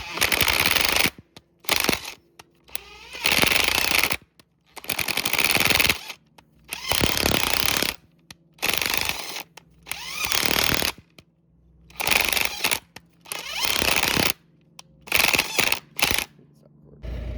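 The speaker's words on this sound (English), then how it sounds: "I'm gonna work it back and forth until it kind of remakes the threads to its size." A nut being worked back and forth to chase worn bolt threads on the shank of a John Deere 722 field finisher, heard as loud, regular mechanical bursts of about a second each with short gaps between.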